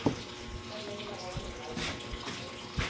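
Water runs from a faucet at home, a short steady splashing flow heard up close with some faint background voices and a few sharper knocks.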